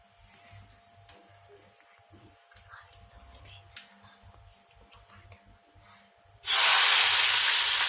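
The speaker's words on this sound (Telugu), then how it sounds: "ఇప్పుడు ఆయిల్ అయితే హీట్ ఎక్కుతుంది" Oil heats in a pan while chicken biryani is being cooked. Faint kitchen noises and soft talk give way near the end to a sudden, loud, steady sizzling hiss.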